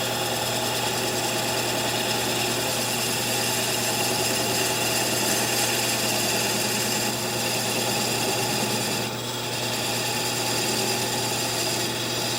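A lathe runs steadily while cutting off the end of a wooden yarn genie workpiece held against a live center, giving a constant machine drone with a slight dip near the end.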